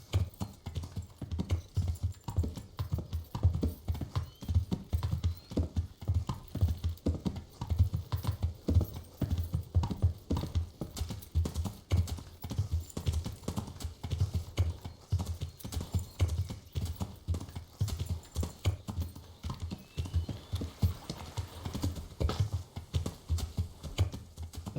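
Horse hooves clip-clop in a steady, brisk rhythm throughout a ride in the medieval video game Kingdom Come Deliverance, loud and close with no talk over them.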